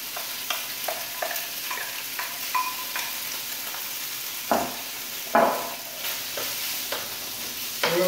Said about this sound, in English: we're going to cook it down, we're going to actually brown ham